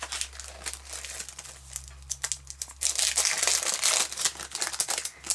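A folded greeting card is handled and opened nearby, with crisp paper crinkling and rustling that grows louder and denser in the second half.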